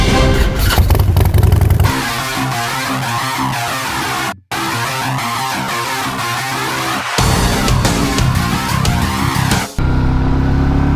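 A Royal Enfield 350 motorcycle, either a Meteor 350 or a Classic 350, is ridden with a heel-toe shifter. The engine rises and falls steadily and close, and brief drops in sound mark the gear changes.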